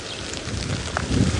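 Heavy rain pouring during an outdoor sunrise safari drive, a dense constant hiss of falling water with wind rumble that swells toward the end.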